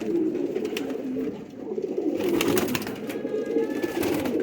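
Pigeons coo steadily in a loft or yard with a brief flutter of wings partway through, a continuous murmur of birds close by with no talking.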